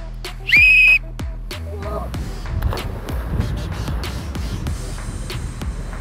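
A loud, sharp referee-style whistle blast sounds once as a start signal at an outdoor wipe-out obstacle challenge, followed by rustling, shuffling movement and background noise.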